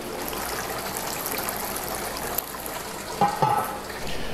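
Steady water flowing from a home brewing sparge arm, a continuous moderate trickle and spray with a brief electronic beep from the mash timer alarm near the end.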